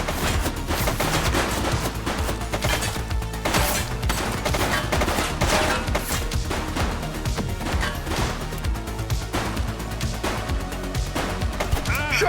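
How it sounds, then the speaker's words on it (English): Dense, sustained gunfire in The Precinct police game, with shots and crashes packed together over a loud action mix and voices audible underneath. "Shots fired!"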